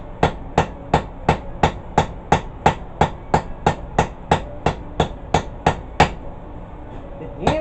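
A hammer strikes hot metal on an anvil while an herb chopper is forged, sounding as about eighteen sharp, evenly spaced ringing blows at a steady rhythm, close and loud, then stopping.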